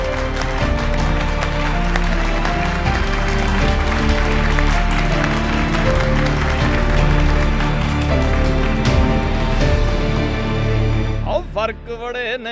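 Sustained crowd applause runs beneath loud, continuous music in a Punjabi film scene, holding steady before tapering in the final second.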